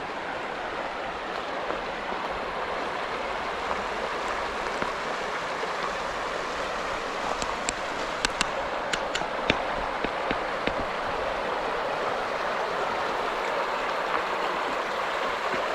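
Water in a flowing stream rushes with an even, continuous wash at moderate volume, with a few faint clicks partway through and no talking.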